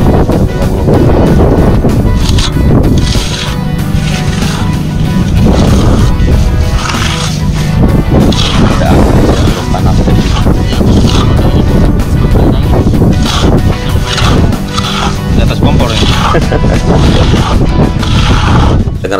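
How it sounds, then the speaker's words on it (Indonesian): Strong, steady wind buffets the microphone at the Mandalika racing circuit construction site, a loud continuous roar with gusty rumbling throughout and no clear speech. "Dengar sekali kerasnya angin di sekitar sini, teman-teman."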